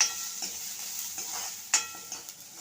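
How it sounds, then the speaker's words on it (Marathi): Onion with spices and a small cardamom pod roasts in a pan until reddish, a soft sizzle broken by several sharp scrapes and taps of a stirring spoon against the pan. "आता गॅसची आज मोठी करून परत एकदा चांगला लालसर होईपर्यंत भाजून घ्यायचं आहे"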